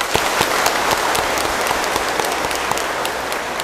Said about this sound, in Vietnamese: Có rất nhiều tràng vỗ tay, nhưng vẫn còn thiếu một tràng vỗ tay lớn.